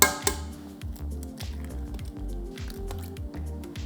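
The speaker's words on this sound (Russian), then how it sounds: "Сюда же мы с вами вливаем молоко и 2 яйца." Milk and two eggs are poured into chocolate sponge cake batter with wet squelching and glugging sounds, plus a faint clink at the start, all close and fairly quiet.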